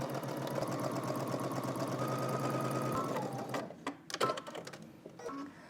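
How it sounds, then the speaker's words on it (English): A sewing machine runs a continuous rapid stitching rhythm along a sleeve seam with a 5/8 inch allowance, then slows and stops into handling noises near the end. "we can go ahead and stitch all the way around using 5/8 of an inch seam allowance"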